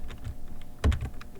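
Computer keyboard typing while entering HTML code on a Linux machine, a steady run of soft close keystrokes with one heavier cluster of key presses near the end.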